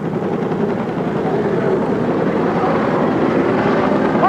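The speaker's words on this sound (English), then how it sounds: "And all of a sudden, I heard it take off." Helicopter taking off during a rescue, its loud continuous rotor and engine roar filling the clip with steady, overpowering noise and no talk.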